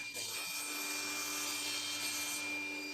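Thin wooden strips scraped and rubbed to fit into slots in a table saw finger-joint jig, a continuous faint rasping friction noise with a steady hum behind it.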